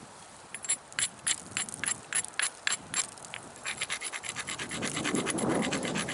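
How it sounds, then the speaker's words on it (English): Obsidian is ground against an abrasive to prepare a platform edge for flint knapping, producing a run of short, rhythmic scratching strokes, close and distinct, that speed up into a denser continuous scraping toward the end. "Grinding really good. I like to grind down and also side to side."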